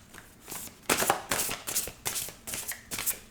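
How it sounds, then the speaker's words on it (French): A deck of tarot cards is riffled and shuffled several times in quick, close, papery bursts, with no talking. "Il ne va pas se mélanger ce jeu aujourd'hui."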